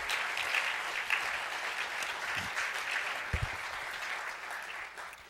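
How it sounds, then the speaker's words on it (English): Steady applause from a lecture audience, a continuous wash of clapping that holds at an even level throughout without pause. "how about another round of applause"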